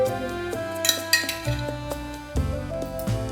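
Spoonfuls of sauce landing on a plated dish, heard as a few clinks and taps of a metal spoon against dishware, spaced out in a short sequence with a faint ringing tone behind them.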